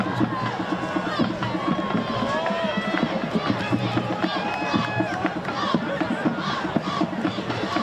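Crowd noise rises steadily through the stands at a high school 6A varsity football playoff game, Red Mountain against Centennial, a continuous roar with scattered shouts sitting under an announcer's voice.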